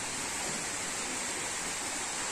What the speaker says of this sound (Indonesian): Lah itu airnya gemericik, mungkin berada di atas sana.